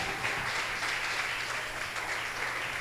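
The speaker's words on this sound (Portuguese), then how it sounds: "diga um glória a Deus e aplaude a Ele bem forte" Congregation in a church applauds during a sermon, a continuous, fairly faint, even patter of clapping over a low hum in the room.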